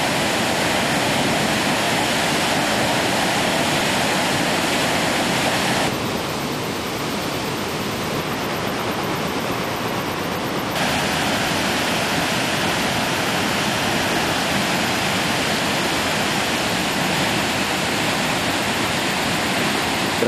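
A rushing torrent of water near Lake Taupo, New Zealand, roars as a loud, steady broadband wash with no breaks, close and continuous throughout with no voices.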